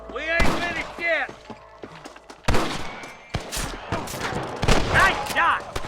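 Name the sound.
gunshots in the video game Red Dead Redemption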